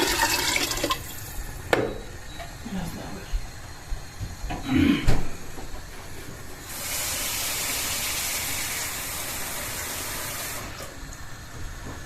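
Water pours into a pot holding cracked wheat, dried beans and chickpeas for keşkek soup. A few clunks and splashes come first, then a steady, rushing pour lasts several seconds. Nobody speaks.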